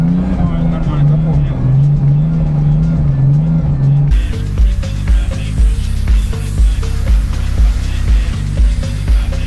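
A car drifting on asphalt, its engine droning and surging in repeated pulses, loud and close, with voices talking over it.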